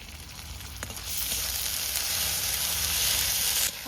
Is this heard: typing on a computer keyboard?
no